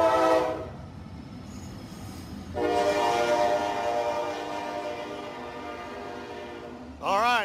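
A passing train blasts its horn in loud sustained bursts, first briefly, then a long blast with rumbling wheels beneath, and a final sharp, wavering horn burst at the end, heard close by.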